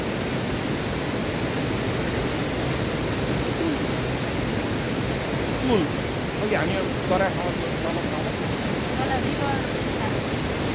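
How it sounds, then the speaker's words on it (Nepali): Loud, steady rushing river water beneath a bridge on the Langtang trek near Ghoda Tabela, a broad continuous roar filling the whole clip, with people talking faintly over it. "असाध्यै ठुलो छङछङ पानीको आवाज आउँदैछ"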